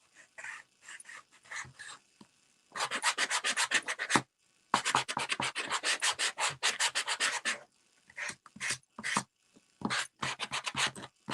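A Christmas craft piece, apparently wooden, is sanded by hand in close, raspy strokes. Rhythmic bursts of rubbing come in groups with short pauses between them.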